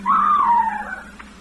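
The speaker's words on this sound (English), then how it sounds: "She turns horrified eyes to me and she screams." A woman lets out one long, high scream in a plunging elevator in a 1948 radio drama; the scream starts loud and close, wavers, then trails off over a low hum, with no speech.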